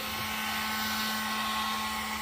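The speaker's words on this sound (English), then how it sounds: "Take my heat gun," A heat gun blows hot air in a constant, loud whooshing roar with a steady motor whine, running without pause and with no talk over it.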